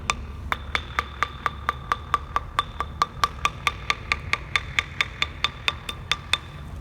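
Sounding for hollow spots on a concrete bridge deck: about two dozen sharp, evenly spaced taps or strikes, steady and close, ringing slightly, with a faint low rumble underneath and no talk.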